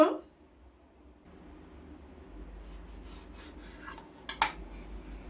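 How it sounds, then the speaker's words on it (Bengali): A knife cutting through bread, heard as a few faint scraping and rasping strokes, with one sharper clink near the end; quiet and close, with no talking. "ব্রেড ব্রেডটা কেটে নিব"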